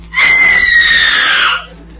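A woman in a 1938 radio comedy lets out a single long, loud, high-pitched scream lasting about a second and a half, sustained and slightly wavering before cutting off, alone with no talk.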